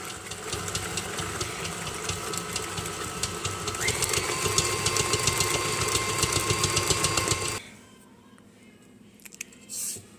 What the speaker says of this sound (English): Okay, so now continue mixing it.